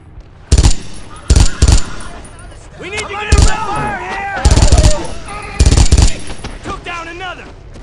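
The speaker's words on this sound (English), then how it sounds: "Did he just fucking shoot at me?" Gunfire in the WWII shooter Brothers in Arms: Earned in Blood, set in France 1944: loud, close bursts of rifle and machine-gun fire in several separate volleys, with shouting voices between them.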